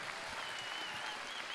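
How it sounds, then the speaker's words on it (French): Brief, steady audience applause at an evening award ceremony in Bresse, a dense mass of clapping held at one level, somewhat distant and soft, with no voices over it. "Sous les applaudissements plus forts que ça."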